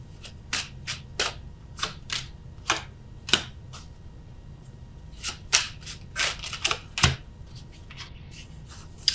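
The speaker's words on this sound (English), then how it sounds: "I just feel like getting the cards down for you guys first." Tarot cards are laid out on a table, a series of crisp individual card snaps and slaps in an irregular rhythm, close and alone.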